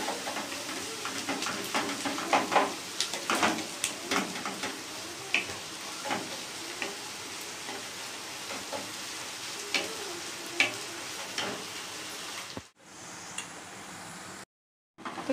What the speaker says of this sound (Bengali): ভালোভাবে পেঁয়াজগুলি ভেজে নিতে হবে।